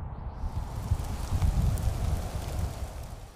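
Steady rain patters in the Rocky Mountains, a dense, even hiss of drops with some low rumble, close and continuous with no voices.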